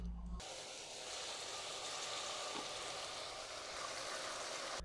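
Peppers and carrots sizzle in a hot pan for a Chinese-style chicken dish, a steady, even hiss of frying that holds unbroken after a brief muffled clunk at the start.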